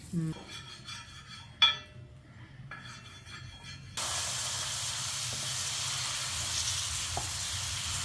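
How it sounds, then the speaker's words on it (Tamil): Dosa batter and oil land on a hot griddle at home and a loud, steady close sizzle rises abruptly after a few quiet clinks, then continues evenly to the end. "தோசை ஊற்றியாச்சு எண்ணெய் ஊற்றியாச்சு"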